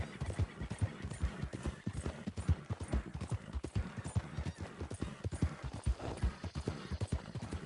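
Horse hooves galloping in Red Dead Redemption II, a rapid, rhythmic clip-clop of pounding steps that stays steady and fairly close throughout.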